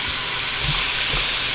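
Onions frying in melted butter over medium-high heat for pumpkin soup give a loud, steady hiss and sizzle, close and continuous, with a couple of soft low bumps from the pan and no talking.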